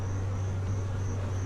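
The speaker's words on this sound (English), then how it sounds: "the bees were a little bit ornery to begin with. A lot of them coming at me and flying around" Honeybees buzzing around a colony being removed from the corner of a house on a rainy day, a steady low hum with a constant drone, fairly quiet and unbroken, no voices.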